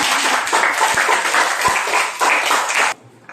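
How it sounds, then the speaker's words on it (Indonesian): A short burst of applause from a group of students clapping together in a classroom, loud and close, ending abruptly. "Berikan tepuk tangan untuk kelompok 5."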